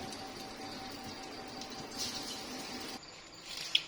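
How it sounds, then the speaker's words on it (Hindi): Chicken nuggets frying in hot oil for homemade crispy nuggets give off a soft, steady crackling hiss with scattered tiny pops, quiet and continuous throughout, with no voices. "ये ऑयल हमारा गर्म हो गया है। अब इनको फ्राई कर लेंगे।"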